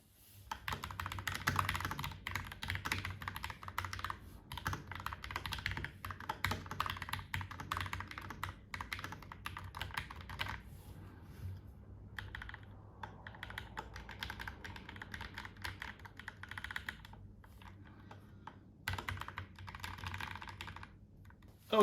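Steady, brisk typing on a Kemove K68 Angel mechanical keyboard, with dense clacking keystrokes that run continuously and only pause briefly a few times, close and clear with no voices.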